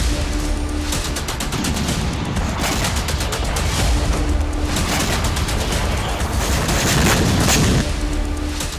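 A night-time drone attack on the Oryol oil depot brings bursts of rapid air defence gunfire and deep booms, repeating in waves over several seconds at a distance, with no voices.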